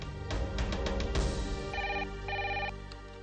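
A telephone rings in repeated electronic bursts, loud and close, with a brief pause between the trilling rings and no one speaking.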